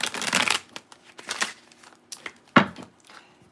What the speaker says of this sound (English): you've been shuffling and meditating on those cards for a minute